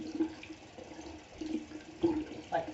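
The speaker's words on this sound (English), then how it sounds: "We're gonna wash our hands thoroughly." Hands washed under a running tap, with a faint, steady stream of water and light splashing swelling in a few soft surges, heard close and quiet without speech.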